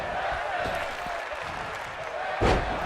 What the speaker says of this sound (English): The crowd now chanting women's wrestling